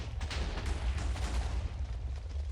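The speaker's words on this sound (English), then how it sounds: "it blew up this whole area, it looks like" A broad explosion rumble in Minecraft with the Enigmatica 6 modpack, a sustained deep boom and crackle filling the whole stretch with no talk over it.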